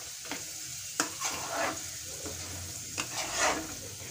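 Raw chickpeas with pickle spices cook in a pan, giving a soft sizzle broken by several sharp scrapes and clinks of a spoon stirring against the metal, close by.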